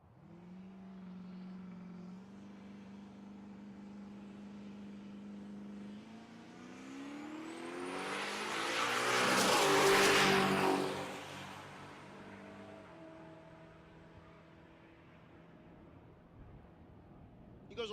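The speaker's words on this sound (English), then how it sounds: "Here's Alex Scanlon, the 91 Camaro out of the Pro Street category." A 1991 Chevrolet Camaro Pro Street drag car makes a pass, its engine rising from a steady idle drone into a loud, swelling acceleration roar that peaks mid-run, then fades back to a lower rumble.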